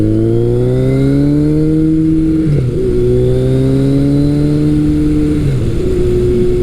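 Motorcycle engine on a spring first ride, revving up through the RPM range in long rising sweeps, each climb ending in a brief dip at the shift before pulling again, steady and close.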